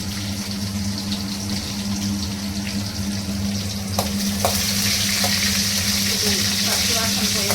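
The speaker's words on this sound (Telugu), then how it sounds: "పచ్చివాసన పోయేవరకు కొద్దిగా అట్లా ఫ్రై చేసుకొనేసి" Cauliflower (gobi) fries in a pan with a loud, steady sizzle, a low hum underneath and a few stirring clinks in the second half, with no talking.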